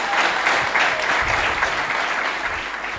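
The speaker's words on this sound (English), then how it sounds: "A hand clap to that." At a university welcome during an ambassador's visit, a large gathering gives the Faculty of Applied Sciences and Technology a loud, close round of hand clapping that holds steady throughout.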